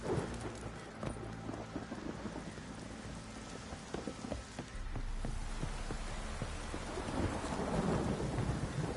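Video game thunderstorm with steady heavy rain hissing throughout, punctuated by rolling thunder rumbles and a few sharp crackles, building slightly louder toward the end.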